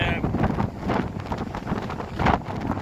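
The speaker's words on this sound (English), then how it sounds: "there's probably no way that you can tell that that it is windy" Strong wind from Storm Isha buffets the microphone in loud, uneven gusts and rumbles, with faint voices partly buried underneath.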